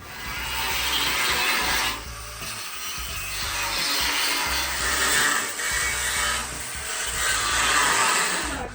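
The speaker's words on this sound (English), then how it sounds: "I need to cut this with the angle grinder." An angle grinder cuts into a car's rear frame during prep for air ride and a four-link, a loud, continuous abrasive grinding roar that surges and dips as the cut progresses, close up with no talking.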